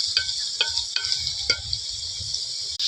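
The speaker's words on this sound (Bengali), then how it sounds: "আদা রসুন বাটা দিয়ে দিলাম, দিয়ে যে ভালো করে একটু নেড়ে নিলাম, কষাচ্ছি" Ginger-garlic paste frying in a pan while being stirred, with a steady bright sizzle and a few light scraping strokes of the spoon, close up.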